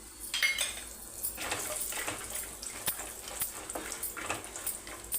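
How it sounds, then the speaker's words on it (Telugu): Cumin seeds and dried red chillies frying in hot oil in a pan, with soft sizzling and crackles, light clinks of a metal spoon against the pan, close and moderately loud. "ఇప్పుడు జీలకర్ర చిట్పట్లాడింది ఎండుమిర్చి దీన్ని సిమ్లో వేసుకోవాలి"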